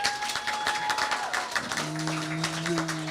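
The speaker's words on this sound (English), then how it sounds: "Let's give a round of applause for" Audience applause for a youth chorus in a cabaret venue, a steady patter of many clapping hands under a sustained tone, fairly even and moderately loud.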